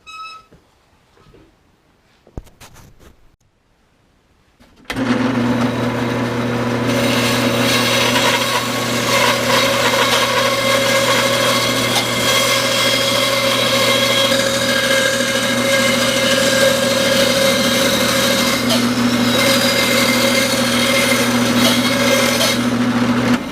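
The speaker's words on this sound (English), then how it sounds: "I'm going to mark this and take it over the bandsaw and cut it out" A bandsaw starts up and cuts through a solid 5.5-inch piece of walnut, a loud steady whine with a low motor hum and rasping blade noise, preceded by a few quiet handling knocks.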